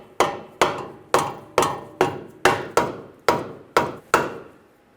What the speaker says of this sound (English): You can use a rubber mallet, just tap it in